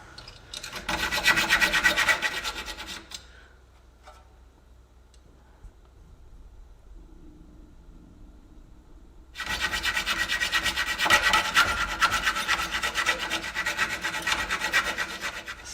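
A tool cuts through a seized front suspension nut on a Jaguar S-Type, giving a harsh, loud rasping grind, then a lull of faint clicking, then the steady grinding resumes, with no voices.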